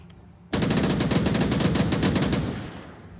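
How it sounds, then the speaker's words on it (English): Sustained automatic gunfire rattles in a competitive match of the VR shooter Onward, a rapid continuous burst of about two seconds that is loud and close before it tapers off. "Shots coming out from Blizzard onto Trip."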